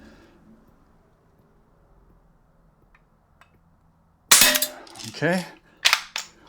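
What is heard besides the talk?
Barra 1866 Junior pump BB rifle firing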